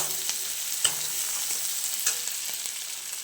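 Garlic, onion, ginger, dried red chilli and bay leaf frying in oil in a wok, a soft continuous sizzle with a few scraping stirs of a spatula, no voices.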